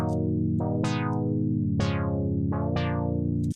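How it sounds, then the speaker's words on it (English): A sustained synth tone through a high-resonance auto filter sweeping down repeatedly, producing whippy, wah-like zaps at irregular intervals over a steady droning chord. "Listen with the resonance up. You'll see what I mean with that whippy sound."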